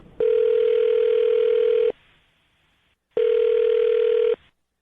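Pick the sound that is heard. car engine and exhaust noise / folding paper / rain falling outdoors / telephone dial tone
telephone dial tone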